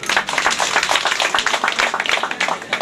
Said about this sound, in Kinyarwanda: Mwamuha amashyi.